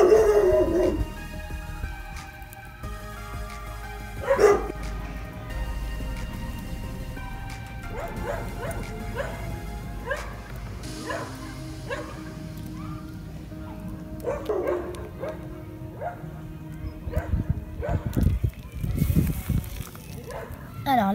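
A dog yips and barks in repeated short bursts, some sharp and some whimpering, fairly close, while someone talks about a wild plant salad over and between the barks.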